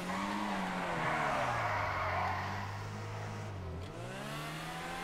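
A tuned Pegassi Torero car in GTA 5 Online skids under light braking, giving a steady engine drone and a long, loud tire squeal whose pitch slides downward near the end.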